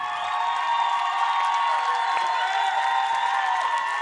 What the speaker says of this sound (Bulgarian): моля за вашите бурни аплодисменти за третият в класацията на зрителите